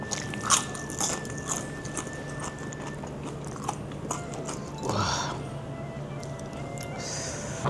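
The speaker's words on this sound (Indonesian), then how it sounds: "Makan ubi pakai nasi." Close crunchy biting and chewing of Japanese-style fried food, fried sweet potato eaten with rice at a Jakarta eatery, with a few sharp crunches over steady background room noise and no clear talk.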